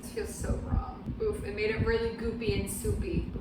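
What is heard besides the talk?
No distinct noise like a dog, phone or traffic.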